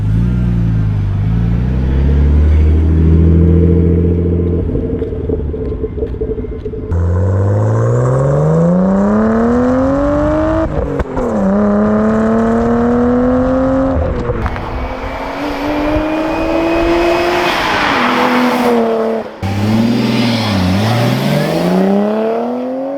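A Nissan R32 Skyline with a new exhaust makes repeated flybys, loud rising and falling revs sweeping past close by as it accelerates and shifts, several passes in a row with no talk.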